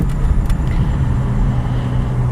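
A 1986 Volvo 240 sedan drives and turns off a main street on a hot summer day in Fair Oaks, California, a steady loud engine and road rumble heard from inside the car without talk.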